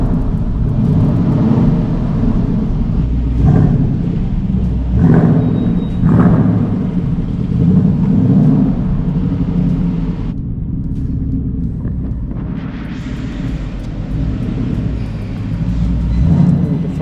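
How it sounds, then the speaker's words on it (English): Stock exhaust of a fully stock Mitsubishi Lancer Evolution VII car, a deep throaty rumble that idles steadily close by and swells in several short revs, with no voices over it. "Nice and throaty. And that's stock exhaust?"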